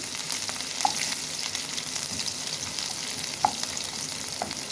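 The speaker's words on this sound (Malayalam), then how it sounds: "ഇനി അതിലേക്ക് ചെറിയ ഉള്ളി, ഒരു 3-4 ചെറിയ ഉള്ളി ചെറുതായിട്ടായിരുന്നു" Small shallots fry in hot oil with mustard seeds for a coconut chutney, a close, dense and steady sizzle with a few faint pops and stirring scrapes, no voices present.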